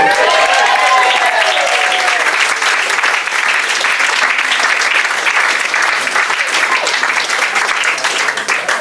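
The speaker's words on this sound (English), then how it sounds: "We'd also like to do the same for the bridesmaids, if they can all stand up and have a round of applause." Wedding guests applaud the bridesmaids with loud, dense clapping that holds steady for nearly nine seconds. There is brief cheering or whooping near the start.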